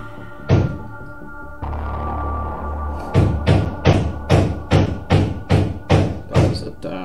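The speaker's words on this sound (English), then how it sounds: "That was a damn knock." Heavy knocking on a door, a single loud thud followed by a continuous low rumble and then a rapid series of about ten evenly spaced, booming knocks, close and forceful.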